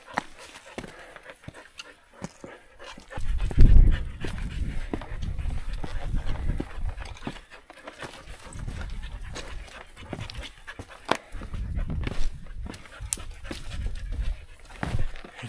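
Dogs pant and scramble over rock in a desert canyon, with quick rhythmic breaths, pawing and scuffling, louder bursts up close and quieter stretches between.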